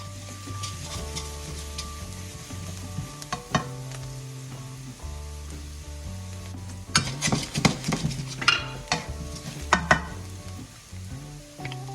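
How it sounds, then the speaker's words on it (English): Garlic toasts in a hot pan for penne alla vodka, a steady low sizzle under repeated sharp scrapes and clinks of a utensil stirring against the pan, loudest in a burst of stirring near the end. "Add the garlic, and let toast for 30 to 45 seconds."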